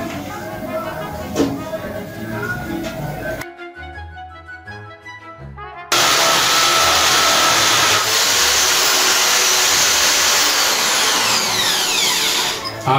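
Power drill boring through a wall during a repair to fix a faulty installation, starting as a muffled grind, breaking off briefly, then returning as a loud, steady, close whine for the rest.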